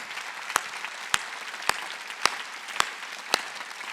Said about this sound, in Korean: 박수 치려면 세게 치라